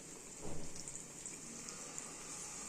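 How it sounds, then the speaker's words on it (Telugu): Water pours briefly into a pan of stuffed brinjal curry, a short splashing gush near the start that settles into a faint steady simmering hiss. "ఇప్పుడు మనం కొద్దిగా వాటర్ వేద్దాం, వంకాయలు కొద్దిగా ఉడకడానికి."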